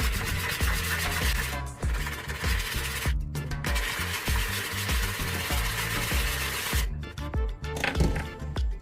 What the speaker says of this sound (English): The first step is to sand the area of the bucket that needs repair.